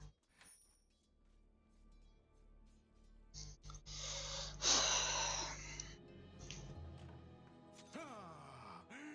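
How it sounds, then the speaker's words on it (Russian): A person gasping a first breath: a sharp, loud inhaled gasp in the middle with hoarse wheezing breaths around it, close and quiet otherwise. "чудесный первый вздох"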